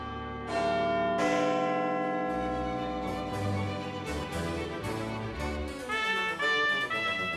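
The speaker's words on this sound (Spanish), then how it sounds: "Elevándose sobre todo el Big Ben, cuyas campanas todavía tañen cada cuarto de hora" Big Ben's great bells in London ringing out in succession, rich sustained tones with long overlapping decays, struck repeatedly and resonating loudly with no voices.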